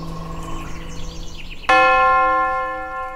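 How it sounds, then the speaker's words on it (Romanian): Quiet ambience with faint tones, then a church bell strikes loudly and rings out, its bright resonant tone slowly decaying. "Clopotele la Pocrov."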